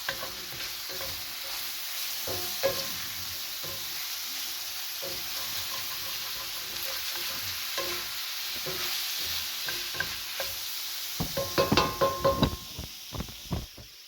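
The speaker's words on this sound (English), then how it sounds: "you got to fry up your sausage" Sausage chunks frying in a pan for biscuits and gravy, a continuous close sizzle with intermittent stirring scrapes and taps, growing busier with a cluster of clatters near the end, no talking.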